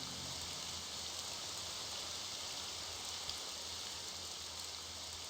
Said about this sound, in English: No, another rain again.